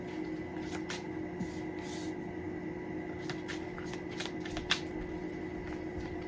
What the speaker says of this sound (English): I'm going to pull the cards now.